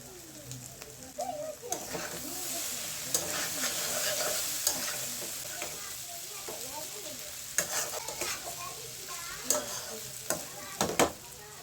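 Noodles with noodle masala are stir-fried in a pan, with a soft, steady sizzle and irregular scraping stirs, and a voice speaks at times over the cooking.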